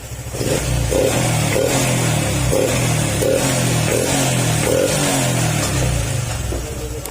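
A car engine, its throttle body freshly cleaned and idle adjusted, revs loudly and steadily up close, with a rhythmic pulsing throb and slight clatter throughout.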